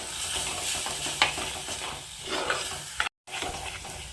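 Green chilli masala paste frying in a pan for a fish curry, a steady close sizzle with occasional stirring scrapes and clicks, with a brief dropout near the end.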